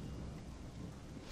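Faint, distant thunderstorm in the role-playing game Gothic 2, a quiet steady wash of rain with a low rumble underneath, no voices.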